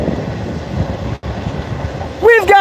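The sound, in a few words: train passing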